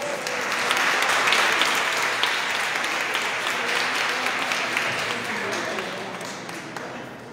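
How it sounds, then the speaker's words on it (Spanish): Congregation applauding inside a church during a Spanish-language Advent Mass, a sustained dense wash of hand claps at full strength that slowly tapers toward the end, with some voices mixed in. "un aplauso para él."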